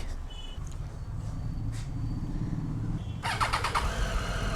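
A motorcycle engine runs nearby with a low steady rumble, then a sharper burst of rapid mechanical sound toward the end.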